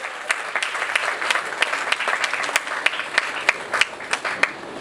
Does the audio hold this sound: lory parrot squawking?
no